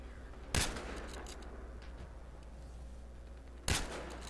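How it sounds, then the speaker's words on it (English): Two sharp, loud gunshots crack about three seconds apart in a Battlefield Hardline multiplayer match, with a quiet low background hum between them. "My buddy's over there shooting somebody."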